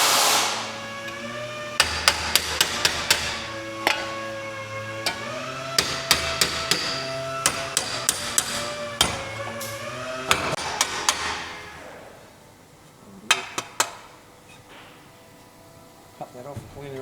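Sharp metallic hammer blows ring out as a cut-off car body panel is straightened during a restoration, struck in quick irregular clusters over a steady hum, with a few last blows after a lull.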